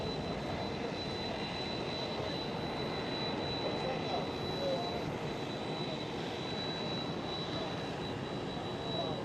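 An Airbus A330 jet roars steadily past at Schiphol airport, a continuous broad rumble of engine noise that stays loud and even throughout, with no voices over it.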